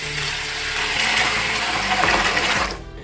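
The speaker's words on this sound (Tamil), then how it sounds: "உளுந்தை இப்போ இதில் நம்ம தண்ணி ஊற்றி வச்சிடலாம்" Water is poured onto washed urad dal in a container so it can soak. The pour is a steady, close rush lasting about three seconds, then it cuts off abruptly.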